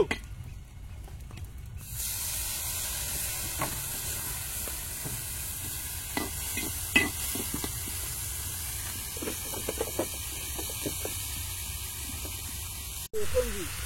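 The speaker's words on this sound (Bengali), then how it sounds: "আমি ঝোলের জন্য জল দিয়ে দেবো" Water poured into a hot pan of snail curry sets off a sudden loud, steady sizzling hiss that holds for about eleven seconds, with faint scattered clicks, then cuts off abruptly near the end.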